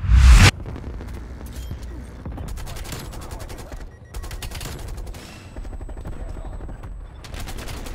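Krig 6 assault rifle fire in Call of Duty: Cold War: a loud blast opens, then sustained rapid automatic bursts of game gunfire with brief pauses, dense and continuous.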